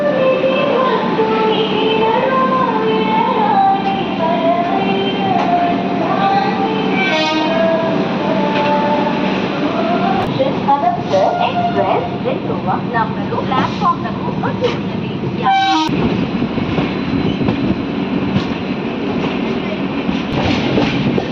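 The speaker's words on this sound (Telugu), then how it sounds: "కాజీపేట నుంచి మన ట్రైన్ బయలుదేరింది." A Sirpur Kagaznagar–Secunderabad SF Express train running after leaving Kazipet, with a steady loud rumble and rail clatter, a horn sounding partway through, and voices in the carriage.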